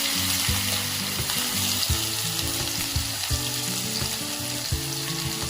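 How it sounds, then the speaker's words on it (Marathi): Chopped onion frying in a pan of hot oil with crackled mustard seeds and cumin, for a sprouted moth bean curry: a steady, dense sizzle over continuous background music. "तर हा कांदा आपल्याला चांगला गोल्डन कलर येईपर्यंत भाजायचा."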